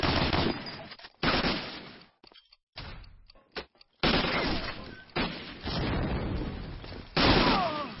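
Rapid bursts of gunfire from Medal of Honor: Allied Assault during a competitive NationsCup match, loud sustained automatic fire broken by short gaps and scattered single shots.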